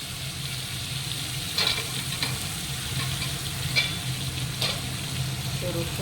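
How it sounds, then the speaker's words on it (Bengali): Garlic and ginger paste frying in a pan while being stirred, a continuous close sizzle punctuated by several sharp spatula scrapes at irregular intervals. "তো রসুন আদার পেস্টটা দিয়ে আমি ভালো করে নাড়াচাড়া করবো যতক্ষণ ওই কাঁচা গন্ধটা না যাবে।"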